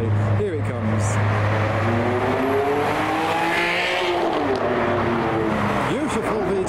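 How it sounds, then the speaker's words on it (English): Ferrari 599 V12 driving away from a car show, its engine note climbing and shifting through revs as it pulls off, loud and close, with people talking over it. "down there we've got the Ferrari 599 leaving"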